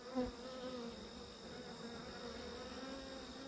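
Honeybees buzz steadily around an opened hive holding a wing-damaged virgin queen, a close, continuous drone with no voices.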